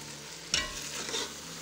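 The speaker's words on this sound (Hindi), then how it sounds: "ये प्याज और साथ में ग्रीन चिली कट की हुई, ये इसके अंदर शामिल कर देंगे। और इसको करेंगे अच्छी तरीके से मिक्स" Chopped onion and green chili are stirred into hot oil in a pan, a sudden sizzling burst as the food hits the pan, then a softer steady fry, close and without talk.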